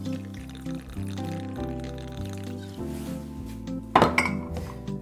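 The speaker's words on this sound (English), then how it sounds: "I'm going to use 2 ounces of spiced rum as a change." Spiced rum is poured into a cocktail glass or shaker for a drink, a close gurgling pour with shifting pitch, followed by a sharp clink of glassware and some clattering near the end.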